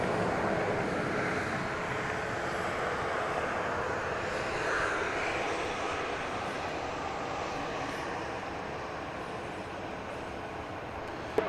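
Southwest Boeing 737-700 jet engines at Dallas Love Field, a continuous broadband roar holding steady for several seconds and easing slightly toward the end, heard from some distance outdoors.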